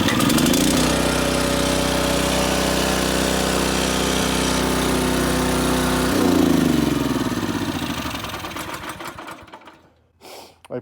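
A Honda HS928 snowblower engine runs loud and close with a steady, buzzing drone. It shifts its note partway through, then winds down and dies away near the end, with no talk.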